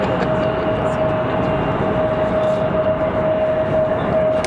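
A NetJets Cessna Citation Latitude business jet out of Teterboro approaches to land, its engines a steady, continuous roar with a thin sustained whine running through it, holding level throughout.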